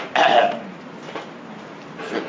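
A patient gives a short cough or throat-clear during a testis examination, one sharp burst followed by fainter throaty sounds, close and alone without talk.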